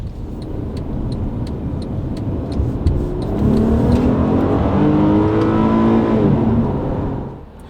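A 2009 Acura TL's engine note swells and shifts pitch as the car downshifts without a throttle blip, producing a steady, moderately loud drone that rises and then fades.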